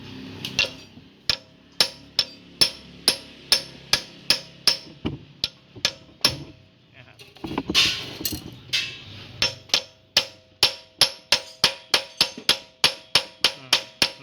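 A hammer strikes a part again and again, driving it fully into place on a car radiator, dozens of sharp, evenly spaced blows, with a brief scraping pause partway through.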